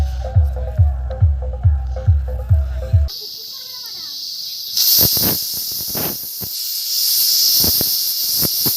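After a rhythmic pulsing noise, a pressure cooker whistle bursts out with a loud hiss of steam that continues in surging waves, close by and strong.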